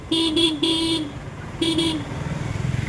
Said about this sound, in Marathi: पप्पाना आवाज देतो किंवा हॉर्न देतो